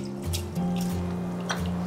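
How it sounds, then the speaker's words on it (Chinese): Peeled shrimp are rinsed in water, with soft splashing, dripping and squishing close by over a low steady hum, short and gentle. "处理好以后，我们准备给它清洗一下。"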